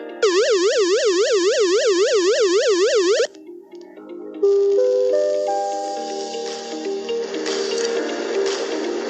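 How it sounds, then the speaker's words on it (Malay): A flood danger warning siren wails in fast, rapid up-and-down cycles, loud and electronic, then cuts off and gives way to a chime-like tone sequence, with no talking. "Kedua, bunyi siren bahaya."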